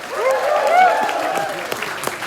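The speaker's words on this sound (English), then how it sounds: "So give yourselves a nice round of applause." Wedding reception guests clap briefly in a room, a short soft burst of applause with some whooping voices that thins out after a couple of seconds.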